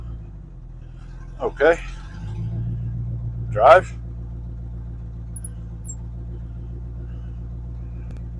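Engine of an old classic wagon, abandoned for 30 years, runs as a steady low rumble throughout, with someone speaking briefly over it.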